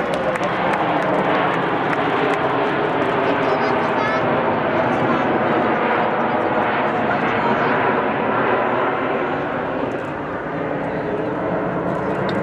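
Red Arrows jets flying at an air show, a loud continuous roar of jet engines filling the air with broad rushing noise, while an announcer's voice carries over it.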